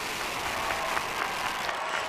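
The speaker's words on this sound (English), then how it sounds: "Let's do a big round of applause." Steady applause from a crowd at a high school commencement, a dense even patter of many hands clapping throughout, moderately loud with no voices standing out.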